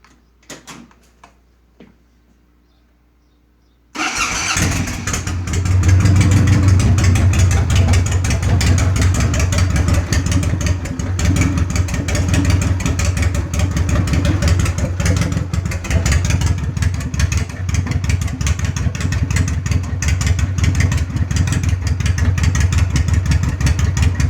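A Honda VTX 1800N motorcycle fitted with Xroids exhaust pipes starts after a few quiet seconds of small clicks, then settles into a loud, deep, steady chugging idle that carries on without talk.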